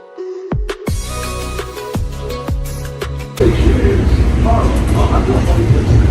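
Subway train pulling into Harlem station: sharp metallic clanks and a tonal hum give way to a loud, broad rumble of the train near and close, steady to the end.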